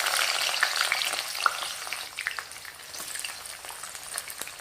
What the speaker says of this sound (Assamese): পিঁয়াজখিনি অকণমান ৰঙচুৱা হোৱাকৈ ভাজি ল'ব লাগিব।